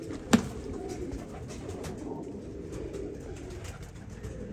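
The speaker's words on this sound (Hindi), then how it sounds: "बड़े जैनुअन कबूतर च।" Ferozpuri pigeons cooing softly and continuously in a loft, low murmuring calls under a steady background with one brief sharp knock near the start.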